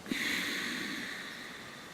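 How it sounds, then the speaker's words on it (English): Short nasal sniffing breaths drawn in during a guided breathing exercise, a quick sharp snort at the start followed by a long airy inhale, close and fairly quiet with no talking. "Sniffing in 4 sniffs, and we're going to do 3 rounds."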